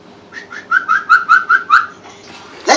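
Bird call sound effect: a run of about seven clear, evenly spaced whistled chirps, bright and close, followed by a brief sharp higher note at the end, with no voices.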